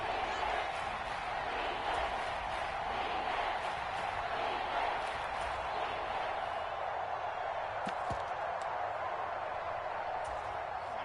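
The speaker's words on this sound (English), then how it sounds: "This crowd doing all they can." Stadium crowd in a football video game, a steady distant roar of fans humming underneath throughout at low level.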